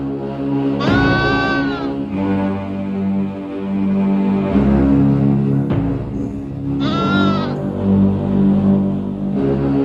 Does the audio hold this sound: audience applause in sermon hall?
no